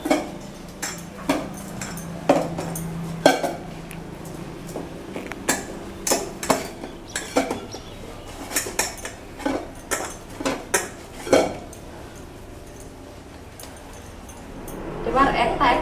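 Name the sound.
kneading flour dough for luchi in a metal bowl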